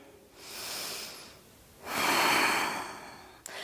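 Deep, steady breaths during a seated yoga stretch, a slow inhale followed by a longer, fuller exhale, close and airy, with a small click at the end.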